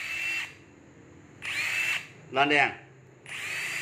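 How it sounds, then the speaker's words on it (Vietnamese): A Hitachi 18V brushless hammer drill test-run in three short bursts of whirring, with someone speaking briefly between them, close and fairly loud. "Đây để chúng ta test máy kia. Cái này Hitachi 18V không than."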